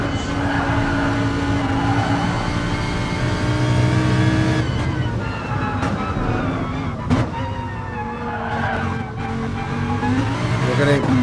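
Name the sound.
Trofeo Lamborghini race car engine, onboard, in a racing video game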